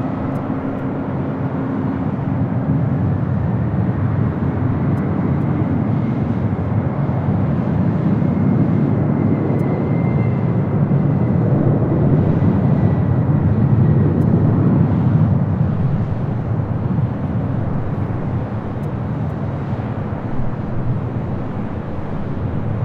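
A jet airliner taking off from runway 24 left at LAX, a steady broad roar that swells and holds throughout, heard from a distance with faint tonal whine and no talk.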